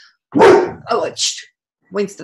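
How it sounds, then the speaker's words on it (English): A pet dog barks in a few short, loud, close bursts indoors, with a person speaking briefly in between. "Sorry, that was my dog."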